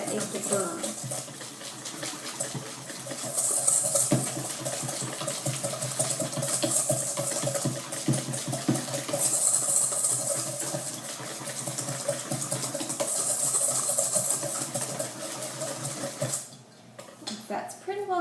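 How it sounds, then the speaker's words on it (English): An egg being whisked fast in a bowl for Power Rangers cupcakes makes a steady, busy scraping and clinking, with a wet rattle running continuously until it stops near the end; a voice talks over it. "just whisk until it's well combined"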